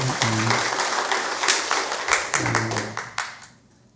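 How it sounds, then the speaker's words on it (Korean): Guests at a Buddhist temple ceremony marking an abbot's 60th anniversary give a round of hearty clapping, separate crisp claps mixed with a voice speaking over them before the applause trails away. "박수 한번 보내주세요."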